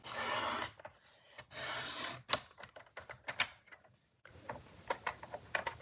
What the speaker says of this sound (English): I'm going to push my blade down, and then from there I can go up and down